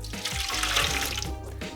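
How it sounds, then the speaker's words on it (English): Water, about 200 millilitres, pours steadily into a bowl for ginger syrup with a full splashing gush that carries on close and unbroken for under two seconds, no voices. "We're gonna go in with water, 200 milliliters or 200 grams of water."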